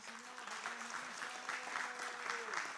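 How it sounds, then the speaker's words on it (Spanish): A church congregation at a Spanish-language service claps steadily together, while a voice with a drawn-out tone carries on under the sound of the clapping throughout. "Usted debería darle un aplauso al Señor"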